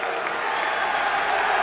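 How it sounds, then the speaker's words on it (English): A boxing arena crowd applauds and murmurs after a heavyweight fight is stopped in the eighth round, a dense, steady roar of clapping that fills the hall without a break. "and takes his applause"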